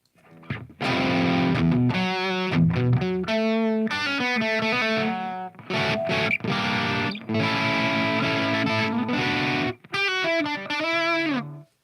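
A distorted electric guitar plays sustained chords and riffs through a crunchy, overdriven Marshall Plexi amp with no reverb, loud and dry with brief pauses between phrases.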